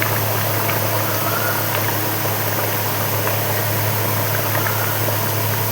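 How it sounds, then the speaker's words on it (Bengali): Fish curry broth made with lentil dumplings bubbles steadily in a pan, a continuous soft simmering hiss under a low, constant hum. "ঝোলটা ফুটে উঠেছে, এখন আমি একে একে মাছগুলো দিয়ে দেবো।"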